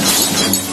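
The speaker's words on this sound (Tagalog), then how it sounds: "nabasag na natin yung pintuan" A glass door shatters loudly up close, a dense crashing burst of breaking glass filling the whole short moment with no talk.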